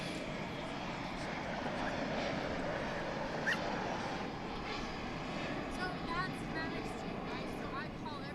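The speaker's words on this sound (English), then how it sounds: "Coming in from Jackson in Mississippi is American Flight 1416, an A319" An American Airlines Airbus A319 arriving at DFW International Airport after a flight from Jackson, Mississippi, makes a steady, broad jet roar that holds throughout at moderate distance, with people talking over it.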